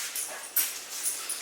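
A dog whimpers and pants close by in breathy, high-pitched bursts, with one sharper whine in the middle, no talking over it.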